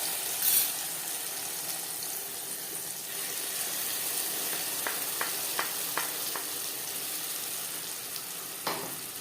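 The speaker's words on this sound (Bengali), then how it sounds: "15-20 সেকেন্ড কালো জিরে ভেজে নেওয়ার পর দিয়ে দেবো মশলার পেস্ট" Spice paste hitting hot oil with nigella seeds in a pan for an eggplant dish, a steady soft sizzle with a few sharp clicks and a brief clatter of utensils.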